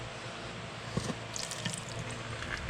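Water drains and trickles out during work on a Dana 44 axle of an offroad Suzuki Amigo, a steady splashing flow with scattered drips, moderately close and heard alone.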